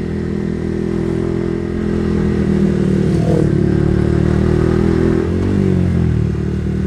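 A motorcycle rides along a mountain road toward a sunrise point at Pangalengan, near Bandung, its engine droning loud and steady throughout, with rising and falling revs and wind noise, alone with no talk.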